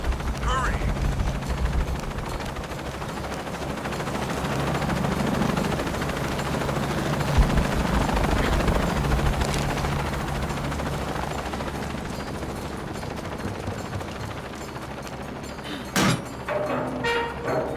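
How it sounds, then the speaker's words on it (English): A helicopter in the video game Shadow of the Tomb Raider, a steady loud rotor thrum with bursts of gunfire and mechanical clatter layered over it, ending with a sharp impact; voices are heard in the mix. "Chopper"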